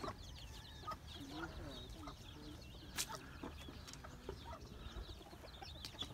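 Large hens cluck repeatedly at close range, with other fowl calling around them and a person speaking faintly in the background.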